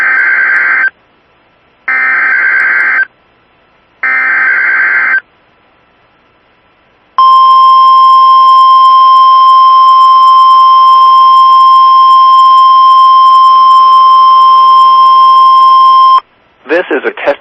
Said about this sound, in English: This is a test of the public warning alarm system.